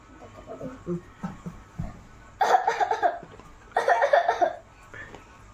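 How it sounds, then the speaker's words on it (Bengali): A young girl playing doctor with a toy stethoscope gives two close bursts of pretend coughing, each a quick run of rough coughs, after some brief talking. "ও কাশি হচ্ছে কাশি হচ্ছে"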